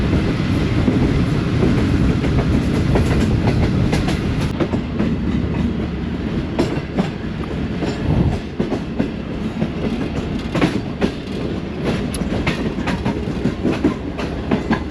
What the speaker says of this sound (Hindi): अभी थोड़ी देर में बिल्कुल ब्रेक्स जो हैं वो अप्लाई हो गई हैं